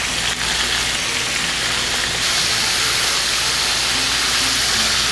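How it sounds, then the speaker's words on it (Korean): Loud, continuous hiss and crackle of battered pollock fish deep-frying in hot oil, close up and steady throughout. "그냥 딱 넣어봤더니 너무 심하게 막 타는 건 아니고 잘 튀겨지는 것 같다"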